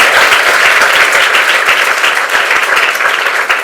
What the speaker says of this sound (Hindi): सबके लिए एक बार ताली है जोरदार